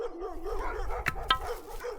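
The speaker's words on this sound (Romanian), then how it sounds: "Sus este o stână, câinii pare că vor să vină la mine." Sheepdogs bark from near a sheepfold in a village, with a few sharp barks sounding at a moderate distance against a steady outdoor background.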